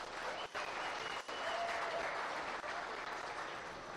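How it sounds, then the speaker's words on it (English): Sustained applause from an audience at a county fair swine show, steady and full for the whole stretch with two very brief dips. "let's give them a round of applause as well"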